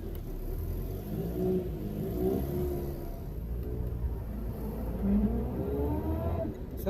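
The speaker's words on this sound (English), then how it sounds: "So that noise you can hear at first is a straight cut gear." A Reliant Kitten DL pulling away in straight-cut first gear, its engine rumbling and revving with a rising gear whine layered over the low drone, steady and fairly close with no talk.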